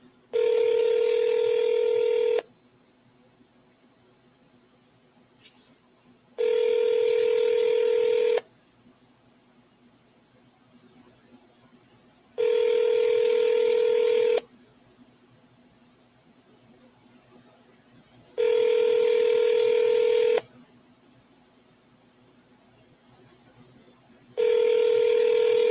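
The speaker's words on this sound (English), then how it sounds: "I'm just going to double dial back to back." Telephone dialing tones sound in five identical long bursts, each about two seconds, separated by equal pauses of silence, loud and steady with no voices, as calls are placed back to back.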